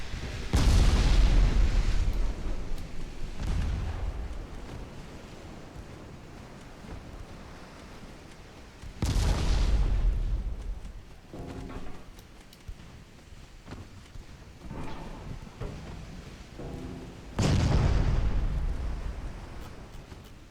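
Torpedo hits and shell explosions in a naval dreadnought combat game, three heavy deep booms spaced several seconds apart, each decaying into a long rumbling wash like surf, with no talk over them.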